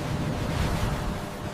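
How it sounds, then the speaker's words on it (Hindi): Stormy sea waves rocking a boat, with a continuous rushing surge of water and wind noise, moderately loud and steady with no speech. "तेज लहरों के बीच नाव झूल रही थी"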